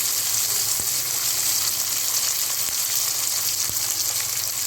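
Paste of tomato, raw onion and green chili frying in a pan for a katla fish curry, a dense, even sizzle with a couple of faint utensil taps.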